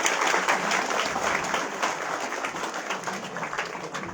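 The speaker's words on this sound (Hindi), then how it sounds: "एक बार जोरदार ताली।" Audience applause at a free tablet distribution ceremony at a management and technology institute: steady, dense clapping from a sizeable crowd, filling the room and tapering slightly toward the end.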